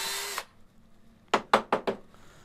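A brand-new Dremel-style rotary tool cleaning a graphite golf club shaft in a workshop gives one short high-pitched whir, then four quick, sharp bursts in a row, close and without talk.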